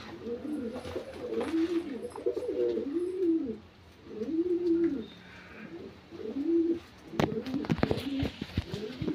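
Pigeons in a loft cage coo in repeated rolling phrases at close range, with brief pauses between bouts and some scattered clicks and rustles near the end.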